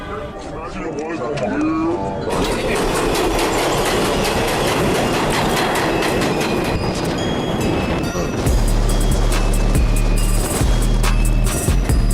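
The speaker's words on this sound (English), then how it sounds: "There is a Manhattan bound local 7 train" A Manhattan-bound local 7 subway train in New York, loud and close, with rolling wheel clatter and rhythmic clicks over rails, then a deeper heavy rumble as it passes, with people talking over it.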